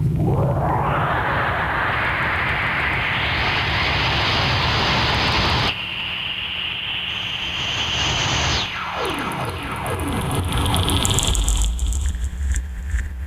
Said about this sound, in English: sort of an ambient, sort of textured sound like you're inside a cave, like insects or something